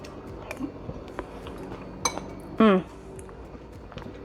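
A spoon scoops street corn casserole from a baking dish, giving a few sparse clinks and taps, one brighter ringing clink near the end, over a quiet background.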